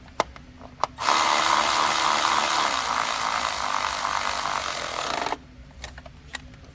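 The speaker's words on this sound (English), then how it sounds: "We're gonna bolt it up fully." A power tool bolts up an aftermarket ignition coil in one continuous, loud buzzing burst lasting about four seconds, framed by quiet handling clicks before and after.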